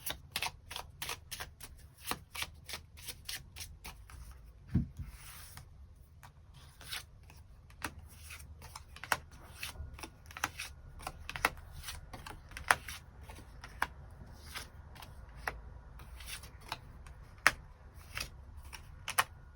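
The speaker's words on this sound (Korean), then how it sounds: "추가 카드 뽑아보도록 하겠습니다" Tarot cards being shuffled and drawn, giving a steady run of crisp, close card snaps and flicks with soft rustling between them, quiet and free of talk.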